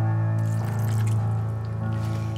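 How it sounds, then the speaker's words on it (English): A small dab of water is poured into a dish of greens in a home kitchen, a short liquid splash over a steady tonal hum, with no talking. "I put a little dab of water."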